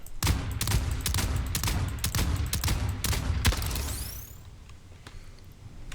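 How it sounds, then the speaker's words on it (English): A rapid barrage of shots fires from a manually operated ship gun in the space game Void Crew. The dense gunfire runs for about four seconds, then gives way to a fading whoosh and quieter hum. "So this is the manual gun here. Might as well shoot the other one on that."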